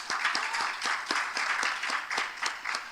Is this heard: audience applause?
yes